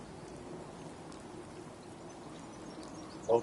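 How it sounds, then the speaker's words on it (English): Steady rain falling in the game Fallout 4, a soft even hiss of drops held at low level throughout, with a brief louder sound at the very end. "Hope this rain lets up soon."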